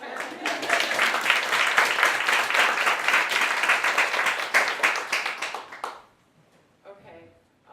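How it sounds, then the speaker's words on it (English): A live audience at a storytelling event applauds in a dense, sustained burst of clapping for about six seconds, then it fades out quickly and a voice begins speaking. "Big round of applause"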